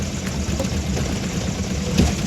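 A vehicle engine runs steadily under light throttle as the clutch is released, a low continuous rumble that holds even and close for the whole stretch and swells slightly near the end.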